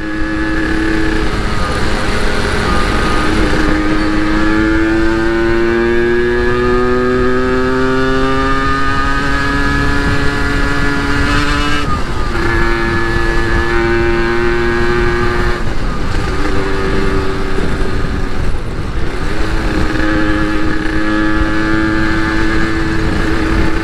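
Motorcycle riding through traffic on a homeward holiday trip toward Indramayu and Cirebon, its engine droning loudly and close with repeated rising and falling pitch as it accelerates and shifts, continuous over wind noise.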